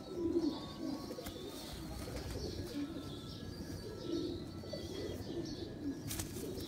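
Pigeons coo on a rooftop loft, with repeated low, soft coos pulsing steadily through the whole stretch alongside a few faint chirps and a brief flutter of wings near the end.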